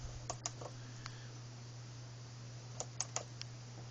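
Keys pressed on a Fignition 8-bit computer fitted with a ZX81 keyboard, a few sharp clicks in two short clusters near the start and again later, close, over a steady low mains hum.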